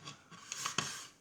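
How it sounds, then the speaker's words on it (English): A coarse sanding stick scratches quickly across the surface of a plastic model of an Australian M113 armoured vehicle, making a few faint, close rasping strokes. "I just got most coarse one I've got, sanding stick,"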